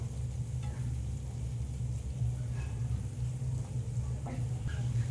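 Cashew, poppy seed and mustard paste fries with spices in a pan, producing a low, steady sizzle and bubbling with faint scraping from stirring, close but subdued, with a constant low rumble underneath.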